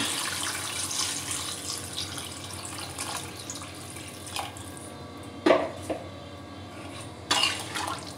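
Water pours into a pan for fish and potato curry, a continuous running splash with a few sharper splashes and clinks near the end, fairly close and without talk.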